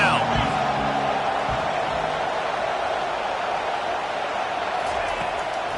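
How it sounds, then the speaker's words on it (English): A stadium crowd at a Florida football game roars steadily for the defense on third down, a dense, sustained wash of cheering with a commentator talking over it. "Decibels rising as the crowd gets behind this defense on 3rd down."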